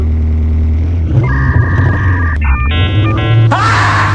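A voice imitates a BMW car engine, rumbling, rising into a revving whine with tonal stepping and ending in a breathy rush, close and loud.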